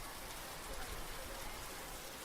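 Steady rain falls on a surface in a windy storm, a dense continuous hiss with no voices.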